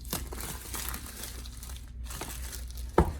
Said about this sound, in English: let's go and peel off the shrink wrap the rest of the way